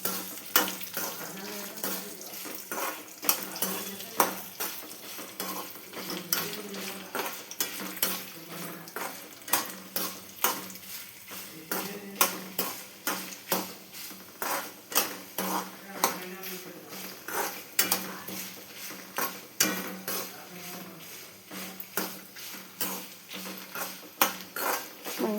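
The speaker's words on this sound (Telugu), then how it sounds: "మంచిగా స్లోలో పెట్టుకుని ఇట్లా తిప్పుకుంటూ ఫ్రై చేసుకోవాలండి" Dried red chillies stirred in a pan on slow heat for Andhra gongura chutney, giving repeated scraping and clinking strokes of a spatula against metal over a faint sizzle, with a voice talking throughout.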